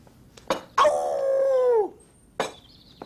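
A man imitates a dog's howl with a short vocal burst, then one drawn-out falling howl lasting about a second, followed by a brief yelp and a faint ding afterward, close and fairly loud.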